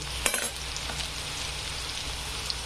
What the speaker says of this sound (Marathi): शेंगदाण्याला पण छान भाजू द्यायचं आहे